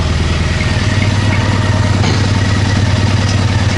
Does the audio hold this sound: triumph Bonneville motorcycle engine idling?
yes